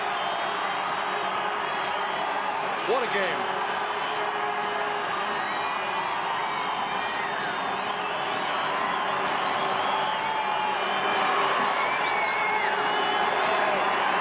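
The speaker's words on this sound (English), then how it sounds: "the crowd is going ecstatic" Football stadium crowd at a CFL game, Toronto Argonauts at Calgary Stampeders, a dense continuous roar of cheering and whooping that holds loud throughout, with a commentator talking over it.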